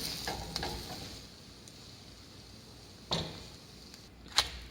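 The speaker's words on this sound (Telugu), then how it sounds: "దీన్ని మనం తిప్పేసుకుందాము. సో దట్ ఎగ్ కూడా మంచిగా ఫ్రై అవుతుంది." An egg chapati, flatbread topped with omelette, fries quietly in a pan after being flipped: a soft, steady sizzle with a few sharp clicks or taps, no one speaking.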